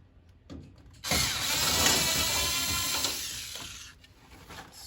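A power tool whirs loudly for about three seconds while trim is stripped from the windshield area of a 1969 Plymouth Road Runner, starting abruptly after some faint clatter and stopping before quieter handling noises resume.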